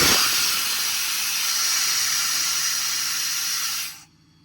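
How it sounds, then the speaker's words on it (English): An air compressor on a 2019 Ford F-550 service truck with an IMT Dominator crane gives off a loud, steady hiss at close range, then cuts off abruptly near the end. "air off, the compressor turns off"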